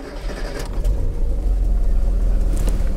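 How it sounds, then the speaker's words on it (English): A Mitsubishi-derived engine in a 1980s South Korean Hyundai Stellar catches and settles into a steady low idle with a noisy exhaust manifold, heard from inside the car at close range, loud and continuous. "And the engine, Mitsubishi in origin, fires into life."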